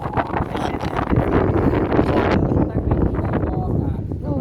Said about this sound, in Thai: ลมพัดดีนะครับ